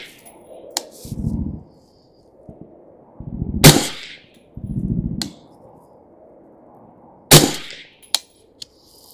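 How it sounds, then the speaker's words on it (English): An LMT 12.5-inch SPECWAR rifle fires 55 grain ammunition outdoors, sharp loud isolated shots spaced a few seconds apart with a quick follow-up pair near the end, and someone speaks in short bursts between them. "Let's kick her off by aiming center chest with the 55 grain ammunition."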